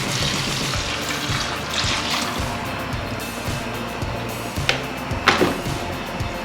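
Chicken stock pours into a hot pan of rice for a one-pan family dinner, giving a continuous sizzling, bubbling rush with a few sharper clinks and splashes near the end, with no talk.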